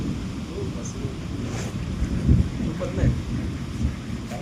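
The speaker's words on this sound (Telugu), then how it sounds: "వర్షం పడుతుంది సహకరిస్తలేదు వర్షం" Steady rain falls outdoors with gusts of wind buffeting the microphone and a low rumble underneath.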